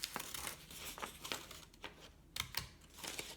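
Scissors snip through paper while window pictures are cut out at home, giving a quiet run of short crisp cuts and crinkles at an uneven rhythm, with no talking.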